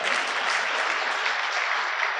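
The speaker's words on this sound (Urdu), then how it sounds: "اتنی دیر تک تالیاں" Audience at a Republic Day mushaira poetry gathering breaking into sustained, dense applause, a bright continuous clatter of many hands that holds steady at moderate loudness throughout, with no voices over it.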